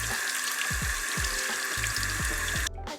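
Running water from a tap splashes steadily as horse tack is rinsed clean of soap in a barn, with repeated gurgling surges and drips, close and fairly loud, ending with a brief abrupt break.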